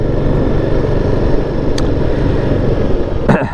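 Royal Enfield Guerrilla 450 motorcycle on a road ride after a wheel balance gives a constant loud engine rumble mixed with heavy wind roar, with brief knocks near the end.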